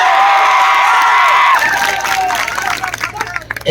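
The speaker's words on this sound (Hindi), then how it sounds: "हाँ तो जोरदार तालियां बजाओ" A crowd at a mushaira poetry gathering applauding and cheering, a loud sustained wash of clapping and shouts that thins into crowd babble and voices toward the end.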